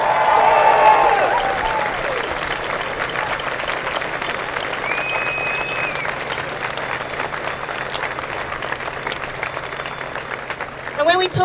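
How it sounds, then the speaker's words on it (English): A crowd at an outdoor Invasion Day rally applauds and cheers, the clapping loudest at first and then settling into a long steady patter, with voices in the crowd mixed in. "Can everyone give him another round of applause?"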